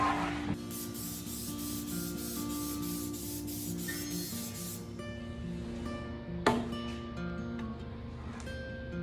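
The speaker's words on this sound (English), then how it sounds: "Let's take some lacquer to it and we'll see it change colors again." Lacquer spray hisses steadily onto a piece of padauk wood for several seconds, close and fairly loud, over a constant background hum with faint clicks.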